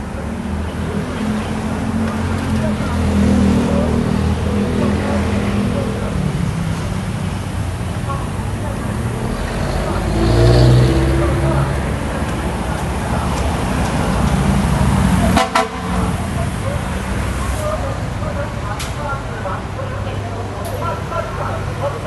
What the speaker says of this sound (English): that truck scared the crap out of me